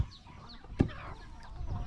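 Free-roaming village chickens cluck softly in an outdoor yard, with one brief louder thump or call near the middle against a steady low background.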